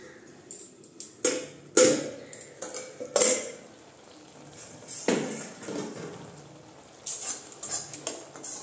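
A metal lid lifted off a cooking pot of carrot halwa simmering in milk, giving several sharp clinks and clatters of metal on metal at close range, spaced irregularly through an otherwise quiet kitchen.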